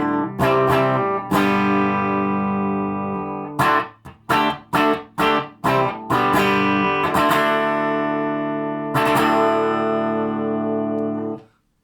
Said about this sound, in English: here's what the amp sounds like, just the Les Paul and the Marshall 1974